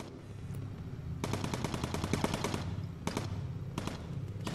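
Bursts of rapid machine gun fire from a bomber turret in Bomber Crew rattle over a low engine drone, with a long stutter of shots followed by two shorter bursts.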